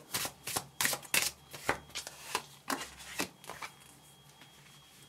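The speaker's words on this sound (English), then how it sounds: "I'm just going to draw a card for clarity for this." Oracle cards are shuffled by hand in a quick series of crisp riffling bursts, then one card is drawn and set down, with the slapping fades dying out into near quiet at the end.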